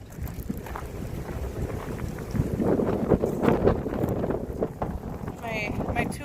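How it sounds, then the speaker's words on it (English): Gusty wind buffets the microphone in a spring garden beside a perennial bed of tulips, a rough low rumble rising and falling over several seconds, swelling strongest midway. "Sorry about the wind if you guys can hear that."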